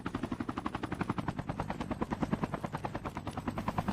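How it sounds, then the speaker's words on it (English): A helicopter in the COD Mobile battle royale game, its rotor thumping in a fast, steady pulse close by, loud and continuous with no talk over it. "Now don't be this guy in the chopper here"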